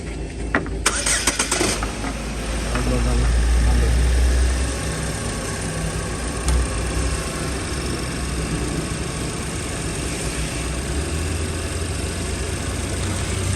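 A car engine turns over and catches, then settles into a steady low idle that runs on alone for the rest of the stretch, heard during a dynamo-versus-battery check with the battery's negative terminal being removed.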